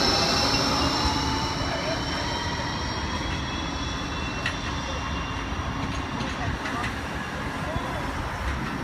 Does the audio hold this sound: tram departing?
yes